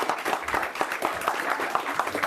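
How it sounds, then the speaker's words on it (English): A classroom of students applauds their teacher, a steady patter of many hands clapping at moderate distance, fairly soft and continuous without voices. "Give her a big round of applause"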